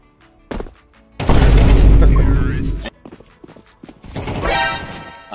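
Gunfire from a competitive first-person shooter game, heavy booming bursts that swell and fade in two loud waves, close up, with a player's voice talking in between.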